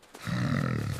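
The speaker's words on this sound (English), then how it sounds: "The pigs are so dirty." A pig on a farm gives one close, sustained low grunt, a rough, throaty call lasting under a second.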